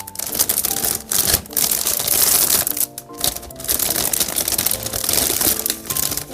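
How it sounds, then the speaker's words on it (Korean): Plastic wrapping is peeled and crinkled off potted plants during repotting, producing close, loud bursts of crackling with short pauses between them. "그리고 여기도 마저 비닐을 제거를 해 볼게요."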